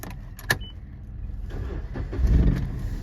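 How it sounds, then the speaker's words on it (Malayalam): A car being started during a driving test: a sharp click, then a rough engine catch that builds into a steady, louder idle, close by with no talk. "ഇനി നമ്മൾ എന്ത് ചെയ്യാം വണ്ടി സ്റ്റാർട്ടാക്കാം"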